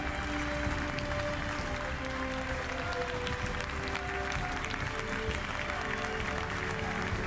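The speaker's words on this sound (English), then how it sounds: "rise to applaud Lionel Messi" Audience rising to applaud Lionel Messi at the Ballon d'Or ceremony, a dense, continuous wash of clapping and crowd noise that holds steady throughout under a faint hum.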